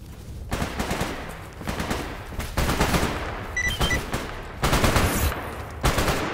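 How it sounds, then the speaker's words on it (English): Rapid bursts of gunfire in the video game S.T.A.L.K.E.R. Anomaly, loud and close, with repeated volleys of automatic shots separated by brief pauses. "Gunshots immediately."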